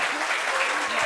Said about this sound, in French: Est-ce qu'on peut applaudir pour lui?